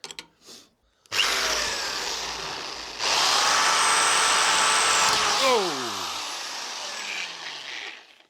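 A power drill whines steadily into an old wooden door, loud and close, its pitch rising partway through and then winding down at the end.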